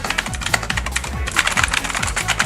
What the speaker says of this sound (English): Oh, I love this fucking keyboard.